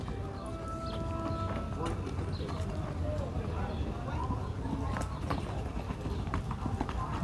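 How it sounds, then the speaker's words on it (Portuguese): Steady clip-clop of a Mangalarga mare's hooves in a quick, even marcha picada gait at a horse fair in Caruaru, Brazil, with voices talking over it and a lively outdoor background. "Uma égua, manga larga, marcha picada"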